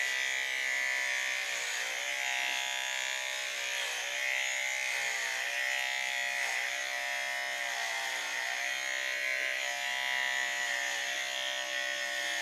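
A steady electric buzz from a hair trimmer runs throughout, its pitch wavering slightly as the blades move, close and continuous with no speech.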